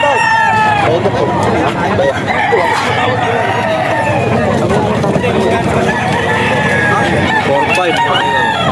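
Roosters crow repeatedly over the steady hubbub of a busy chicken market in Bocaue, Bulacan, with cocks and fowl clucking nearby and voices chattering throughout.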